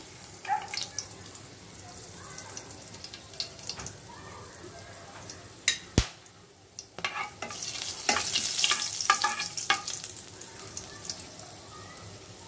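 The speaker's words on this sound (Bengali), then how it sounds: "কড়াইয়ের তেল গরম হয়ে গেছে। এখন আমি প্রথমে 2টো এলাচ, একটু দারচিনি এবং 2টো লং দিয়ে দিলাম।" Cardamom pods, cinnamon and cloves sizzle in hot oil in a kadai for a beef curry, with spatula scrapes and clinks. The frying swells to a louder crackle toward the end.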